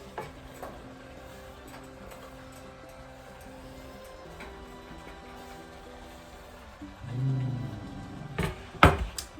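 Chopped celery pieces tumble into a cooking pot near the end, a short clatter and knock after a quiet stretch of faint kitchen ticks.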